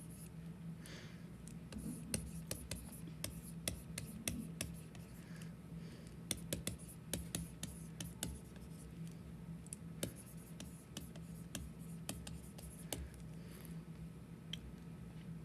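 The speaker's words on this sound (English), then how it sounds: "So let's write that in." Handwriting scratches and taps come in quick irregular strokes, faint and close, over a low steady room hum.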